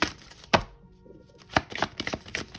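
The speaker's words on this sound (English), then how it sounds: "Let's give it another shuffle here." Tarot cards being shuffled by hand at close range, with a series of irregular riffling and tapping bursts and a short pause near the start.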